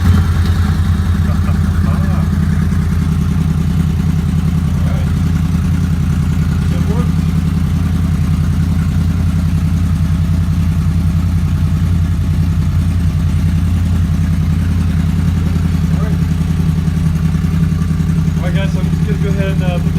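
A Honda VFR800 Interceptor motorcycle fitted with a new lithium battery idles close by. Its engine makes a steady, loud, low drone with no gaps from start to finish, with faint clatter on top.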